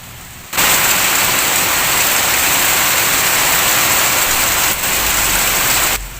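Steady, dense hiss of rain falling, loud and constant for several seconds with no voices, briefly dipping before continuing.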